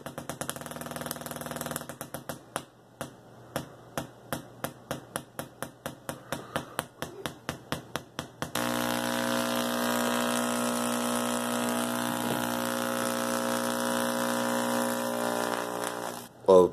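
A PLL half-bridge solid-state Tesla coil built on IRFP460 transistors, run unfiltered from 120 VAC at about 240 W, buzzes in a rapid series of sharp pulses, then switches to a loud, steady, harsh drone that cuts off abruptly.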